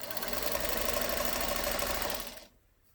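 Sewing machine stitching along the edge of a hat: a fast, steady mechanical whirring hum runs close and loud for about two seconds, then stops abruptly into near silence.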